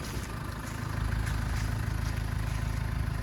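A 2005 Renault Trafic 1.9 van's engine idles with a steady low rumble evenly throughout, close by, with no voices.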